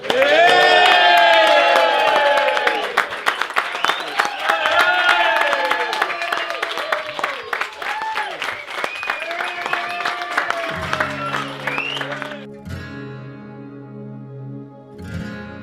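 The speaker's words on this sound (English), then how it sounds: "a very, very loud round of applause to the bride and groom, Mr. and Mrs. Baxter" Wedding guests clap and cheer loudly for the bride and groom, a dense burst of applause with whoops that gradually thins out and gives way to music near the end.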